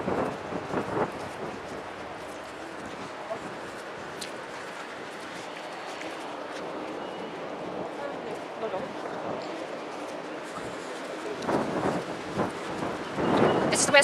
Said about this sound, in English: Too bad it's so windy out right now.